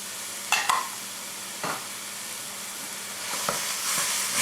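Green pepper and onion cooking in a saucepan for chili, with a steady soft sizzle broken by a few sharp stirring scrapes and clinks near the start and middle, no voices.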